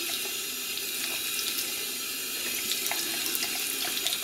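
Heavy running tap water splashes onto waterproof cycling gloves, a steady close rushing hiss with faint irregular spatters and no speech.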